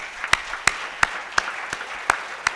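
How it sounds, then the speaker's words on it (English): Rhythmic clapping rings out at a book launch, sharp evenly spaced claps about three per second over a soft background of scattered applause. "I would request all of you to give him a big hand"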